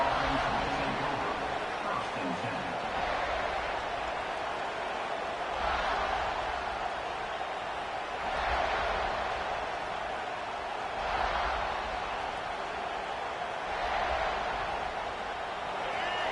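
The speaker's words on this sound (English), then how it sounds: "This crowd trying to make life miserable for this offense." Stadium crowd at a night football game roaring steadily, with the noise swelling in waves as a commentator talks over it during play.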